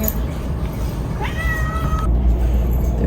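A cat at a cat cafe gives one drawn-out meow that rises then holds steady, close and clear over low room hum and indoor background noise.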